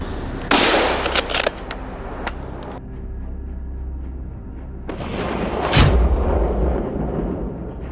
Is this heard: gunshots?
yes